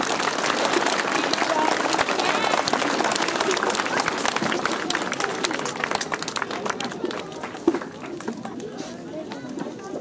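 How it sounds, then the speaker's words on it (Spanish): Loud crowd applause rings out at a school flag-raising ceremony for a Peruvian school anniversary, a dense clatter of clapping that thins toward the end, with voices and outdoor noise mixed in. "fuerte de los aplausos"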